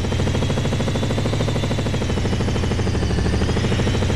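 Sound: helicopter flying in the video game Crackdown 2

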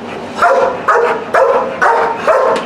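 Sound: protection dog barking

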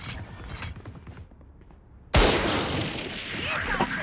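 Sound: Marshal sniper rifle headshot in the video game Valorant

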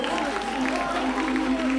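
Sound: applause for a beauty pageant contestant

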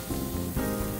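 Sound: beef and gizzard suya sizzling as it cooks

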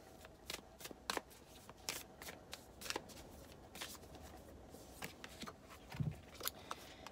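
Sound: shuffling oracle cards

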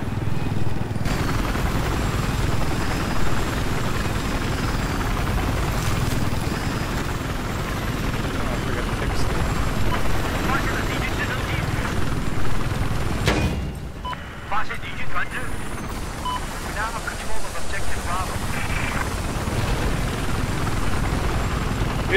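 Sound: helicopter in video game

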